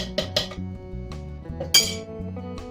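A spoon clinks and scrapes against a pot as Lasco powdered milk is stirred into Jamaican rice porridge, with a few distinct metallic knocks over a soft tonal background.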